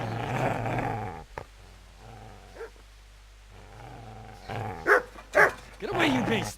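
A dog in the medieval game Kingdom Come: Deliverance growls low and continuously at first, then lets out a few sharp, loud barks near the end after a quieter stretch with faint sounds.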